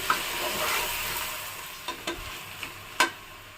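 Goat head curry with a bay leaf and spices stirred in a pan: a soft, steady sizzle followed by a few isolated spoon taps near the end.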